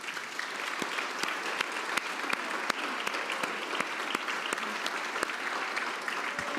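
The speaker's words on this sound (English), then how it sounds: "Please join me in giving her a round of applause" Steady audience applause at a Washington DC gala honoring Susan Wadsworth, dense clapping throughout with sharp individual claps standing out, no talking over it.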